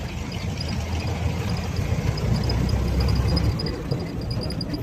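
A 1929 Plymouth Model U engine idles steadily nearby, a throaty, rumbling exhaust burble with an even pulse and no voices.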